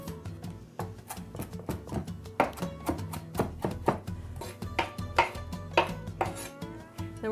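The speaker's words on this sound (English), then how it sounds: "now we're gonna chop up a little bit of this parsley" A knife chops fresh parsley on a cutting board in quick, uneven strokes, crisp and close, with no voices over it.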